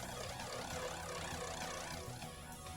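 A Dr. Chipper wood chipper driven by a tractor of up to 45 horsepower grinds through brush, giving a loud, steady roar with a churning mechanical drone that holds constant throughout.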